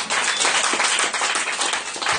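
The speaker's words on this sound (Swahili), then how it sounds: "Nisikie makofi kwa ajili ya Bwana." A church congregation at a Sunday service claps for the Lord, loud dense hand clapping close by with a lively, slightly uneven rhythm throughout.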